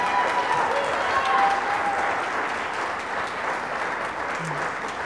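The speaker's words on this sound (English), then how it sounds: "Let's give the candidates a round of applause" A crowd applauds the candidates at the close of a 2016 Washington Secretary of State debate, dense, sustained clapping filling the hall at a steady level throughout.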